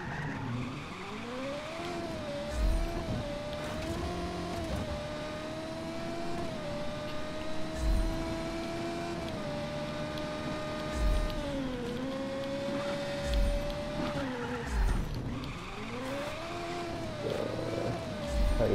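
F1 race car driven in the video game Just Cause 3, a steady high engine whine rising and dipping with gear changes, with repeated tire squeal and skidding bursts throughout.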